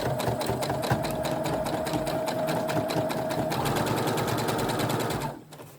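A sewing machine stitches steadily over a thick flat-felled seam, a rapid even needle chatter running close and loud without pause for about five seconds before stopping abruptly.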